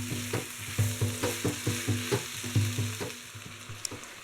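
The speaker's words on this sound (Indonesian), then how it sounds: "Aduk rata." Tauco curry with green chilies, petai and beans is stirred in a hot pan, a steady sizzle under rhythmic scraping strokes of a utensil repeating about twice per second, close and clear with no voices.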